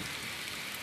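Steady rain falls outdoors as a continuous, even hiss of drops, moderately quiet and alone with no voices.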